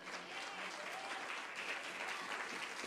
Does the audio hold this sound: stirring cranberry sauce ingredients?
no